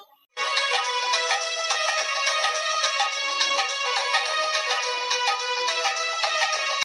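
A mobile phone ringtone plays a steady, bright melodic tune that runs loud and unbroken for several seconds in a cartoon comedy scene, with no talking.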